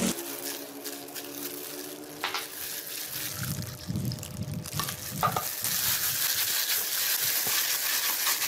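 Pomelo peel kneaded and squeezed by hand with salt and water, wet squelching and sloshing in a steady rhythm, close and fairly loud with a constant wet hiss underneath.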